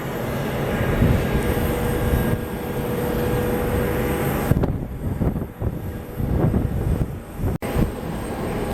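A United retro Airbus A320 in Friendship livery takes off on a windy night at Columbus, its loud, rumbling jet roar swelling and then wavering as gusts buffet the sound, with no speech.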